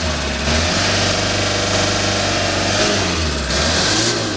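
Engine of an old 4x4 revving hard, loud and close, with repeated rises and falls in pitch over a rough idle.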